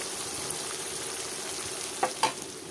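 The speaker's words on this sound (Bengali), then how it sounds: "এখানে দেখো মাছ ভাজা হচ্ছে" Fish frying in hot oil in a home kitchen, a steady broadband sizzle running throughout at moderate level, with a couple of sharper pops or utensil taps near the end and no talking.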